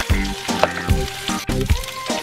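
Potatoes frying in a pan with a sprinkle of paprika while cooking a possum stew, giving a steady close sizzle broken by rhythmic stirring scrapes.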